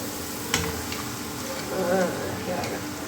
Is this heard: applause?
no